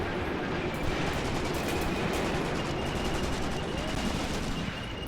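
Heavy machine gun fire rattles against a tank in Graviteam Tactics Mius-Front, a continuous dense stream of rapid shots and metallic clatter over a steady rumbling battle background.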